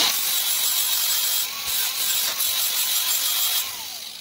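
Metal being trimmed for a homemade muffler on a Polaris RZR 1000 side-by-side: a steady, loud, high-pitched power-tool grind or cut runs throughout, with brief dips in pressure, and nobody speaks.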